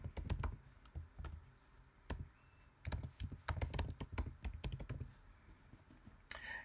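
Typing on a computer keyboard to enter an email address: quick irregular runs of crisp, close key clicks with short pauses, quiet and alone.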